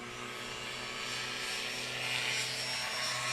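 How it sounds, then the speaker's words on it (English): A small airplane flies at a STOL practice day at Patriot Airpark in Pocola, Oklahoma, producing a faint, steady propeller-engine drone that swells slightly as it continues. "He's just like flying the airplane"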